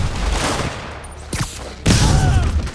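Rapid bursts of gunfire in the video game Marvel's Spider-Man during The Heist DLC: a dense fusillade with a brief lull, then a loud, sustained volley to the end.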